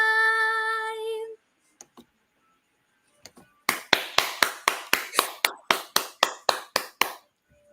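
Sparse, sharp claps ring out after a sung note fades, building into a steady run of distinct hand claps from a small audience for a singer, close and fairly loud, with no one talking.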